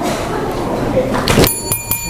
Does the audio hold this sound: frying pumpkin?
no